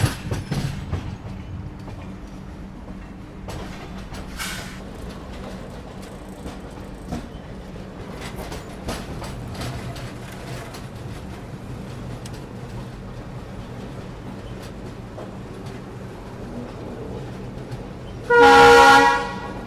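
Magadh Express train rolling into New Delhi station past Shivaji Bridge, a steady low rumble with clicking over the rails, and a loud horn blast near the end.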